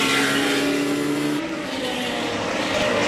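Race car crossing the finish line at a circuit sprint race, a loud continuous engine roar close by that shifts in pitch as the car passes, with crowd and track noise behind.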